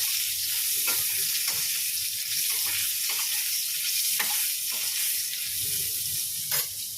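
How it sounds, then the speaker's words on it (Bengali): Pointed gourd (potol) frying in oil gives a steady bright hiss and sizzle, close and loud, with occasional sharp crackles and pops, no voices. "এই পটলের তেলেই ভাজ হচ্ছে এই যে উঠছে উঠছে ভাজবে আগে পটলটা ভেজে নিই ভালো করে লাল লাল করে"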